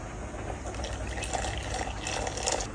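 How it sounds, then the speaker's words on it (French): Boiling water pours into an instant chili con carne cup, a steady close rushing and filling sound that lasts a few seconds without any talking. "Je vais mettre 90 d'eau bouillante."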